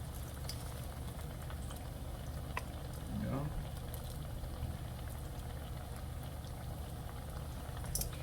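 Sweet plantains fry in hot oil, giving a constant bubbling sizzle that holds steady throughout at moderate loudness.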